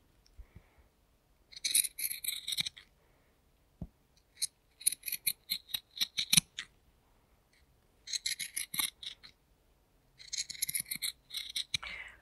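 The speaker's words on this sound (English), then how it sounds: "I am just going to use pinking shears to cut the curve" Pinking shears snipping along a curved fabric seam allowance in quiet bursts of crisp, rapid cuts separated by pauses, close and fairly soft.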